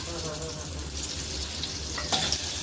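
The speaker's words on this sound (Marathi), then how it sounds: "जिरं टाकते, तेलामध्ये जिरं टाकलेलं" Cumin seeds sizzle in hot oil with a steady close crackle, a brief brighter burst of spatter near the end.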